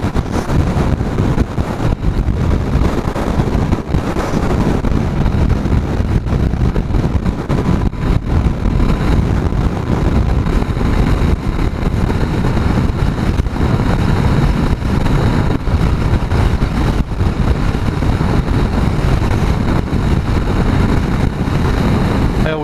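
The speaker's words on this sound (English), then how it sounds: "there's nothing to break up the wind, so it just whips along" Strong wind across open North Yorkshire moorland roars and buffets the microphone continuously, a loud, dense rumbling rush with no let-up and no clear talking over it.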